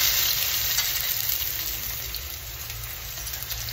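Onion sizzling in hot mustard oil, a close, steady frying hiss that slowly softens, with light stirring and no speech.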